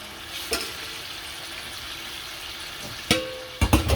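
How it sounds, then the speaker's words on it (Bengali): Boal catfish pieces sautéing in a pan of hot oil give a steady low sizzle, broken by a few sharp clacks of a utensil against the pan and a louder cluster of stirring knocks at the end. "আমি পুরো মাছটাই কষিয়ে কষিয়ে নিচ্ছি।"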